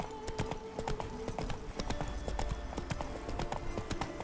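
Roach, the horse in The Witcher 3, trots with crisp, regular clip-clop hoofbeats close by, set against in-game music and ambience.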